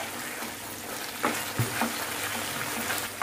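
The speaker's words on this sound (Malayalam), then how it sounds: "നമുക്ക് ഒരു സ്പൂൺ നെയ്യൂടെ ഒഴിച്ചു കൊടുക്കാം." A spoonful of ghee sizzles and crackles in a hot pan of a rice-water dish, with a few soft stirring scrapes over a steady frying hiss. No one talks.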